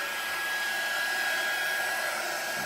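A hair dryer blowing on a craft project, a steady loud whooshing hum with a faint whine held throughout, no talking.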